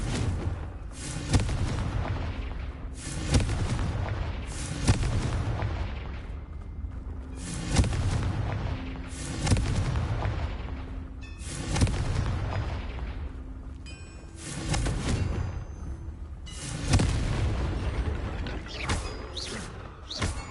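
Confringo spells in Hogwarts Legacy go off as a series of booming blasts, about eight heavy impacts spaced a couple of seconds apart, each with a rumbling, crackling tail and mechanical creaks between them.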